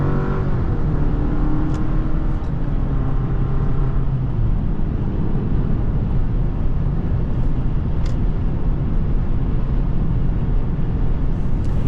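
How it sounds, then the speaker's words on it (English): A 2023 GMC Canyon pickup truck drives steadily, its engine a continuous low rumble mixed with broadband road and tire noise that stays loud and even throughout, with no voices. "I really like the way how this truck drives."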